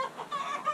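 Chickens in a mulched run give a quick series of soft, close clucks under low outdoor background noise.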